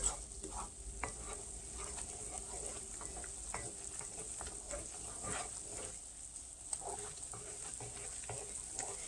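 Caramel-coated nuts being stirred in a hot pan, with a steady sizzle beneath scattered scraping and clicking strokes of the spoon through the sticky mixture, close and continuous throughout.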